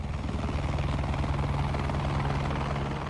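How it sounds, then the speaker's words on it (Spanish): A helicopter flies close by, its rotor beating in a steady, rapid thump over a loud engine whine that holds constant throughout, with no voices. "Subieron a algunos vietnamitas a mi helicóptero"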